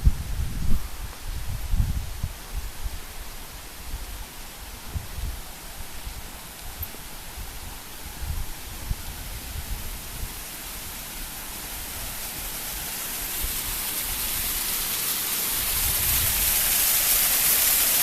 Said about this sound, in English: I can hear the waterfall sound.